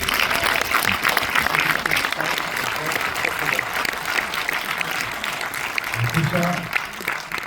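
A full theatre audience applauds Claude at a film preview screening, with sustained, loud clapping filling the room and a voice briefly speaking over it near the end.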